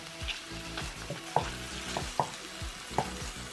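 Chicken browning in a pan for a slow cooker stew, with a steady sizzle broken by sharp clacks and scrapes of a utensil stirring at irregular intervals.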